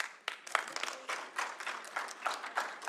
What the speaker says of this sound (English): Please, no applause in the council chambers